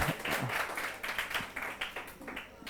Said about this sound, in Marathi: वा ताई साईड टाळ्या वाजवा जरा, हळूहळू